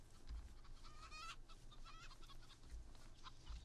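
Chickens in a video game cluck faintly in scattered bursts over a low background hum, with a cluster of rapid clucks in the first half and softer calls later.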